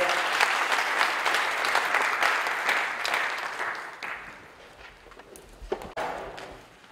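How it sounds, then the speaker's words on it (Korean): A seminar congregation claps steadily to thank a pastor, and the applause slowly thins out and fades toward the end. "권순웅 목사님께 감사의 박수를 드리겠습니다"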